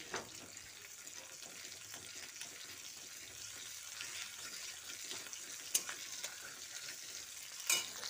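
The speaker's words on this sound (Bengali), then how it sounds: "তারপর ফোড়নটা কয়েক সেকেন্ড ভেজে নিচ্ছি" Ginger, green chilli and whole cumin tempering in hot oil for a chana chaat, giving a steady soft sizzle and crackle throughout, with a couple of sharper pops and light stirring clinks near the end.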